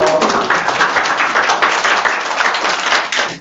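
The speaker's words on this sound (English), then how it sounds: "please give him another round of applause" Steady applause and clapping from an audience greeting Brother Tawali, the first speaker of the day at a poetry gathering, a dense continuous patter of many hands held at even loudness throughout.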